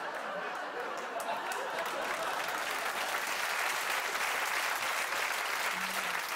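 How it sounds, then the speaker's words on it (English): Studio audience applause on a Sky One TV show for Danny Dyer, a dense, continuous wash of clapping and crowd noise that holds at a steady level throughout, with faint chatter mixed in. "Danny Dyer gets a round of applause"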